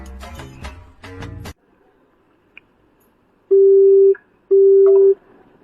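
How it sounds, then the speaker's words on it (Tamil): Two long, loud steady tones of a telephone busy signal ring out one after the other as a call at home fails to connect, following a stretch of brief talk and a quiet gap. "கால் வேற போய் தொலைய மாட்டேங்குது."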